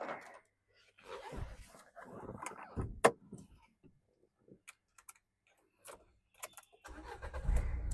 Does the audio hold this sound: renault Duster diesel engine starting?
yes